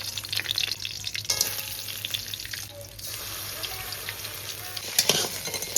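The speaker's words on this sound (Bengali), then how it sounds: "এই যে মিথি ছড়া ফোড়ন আর শুকনো লঙ্কাটা দিব।" Fenugreek seeds and dried red chillies frying in hot mustard oil, giving a dense, bright, crackling sizzle that stays close and loud throughout, with a brief surge near the end.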